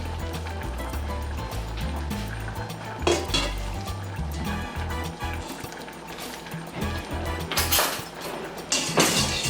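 Cold water pouring into a bowl in a home kitchen, a steady liquid rush with splashing swells that rise and fall over about nine seconds, fairly quiet and alone.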